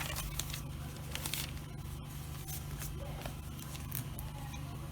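Scissors cut through a paper front pattern for a women's shirt with darts. The snips and paper crinkles come close and steady over a low, constant hum, with no talking.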